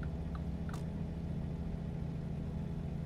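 Truck engine in American Truck Simulator, a steady mid-pitched drone of a heavy rig on the road at constant loudness, with a couple of faint brief chirps near the start and no talk.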